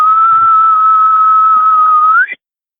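A man whistles in imitation of a pure, clean whistle heard in the woods, one long steady tone held for about two seconds that bends upward just before it stops, loud and close.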